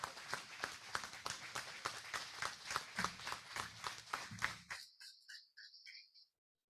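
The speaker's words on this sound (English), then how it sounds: "How about one more big Rotary Club Gainesville round of applause for our new members being inducted today" A room of Rotary Club members in Gainesville gives a sustained round of applause for newly inducted members at a weekly meeting, with steady dense clapping for several seconds before it abruptly stops, leaving a few faint bird-like chirps.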